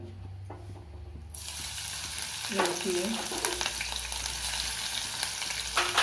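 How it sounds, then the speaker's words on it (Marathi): Garlic sizzles in a hot kadhai for a Marathi home-style leaf bhaji, starting after a quiet moment, with a near, steady frying hiss and a few stirring scrapes. "लसूण थोडीशी भाजून घेऊया"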